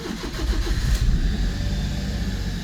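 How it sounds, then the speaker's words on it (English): The ignition key turns in a 1999 Mitsubishi Minicab. The small engine cranks with a brief rattle and catches into a steady, loud mid-pitched idle. "when I put the keys and turn ignition"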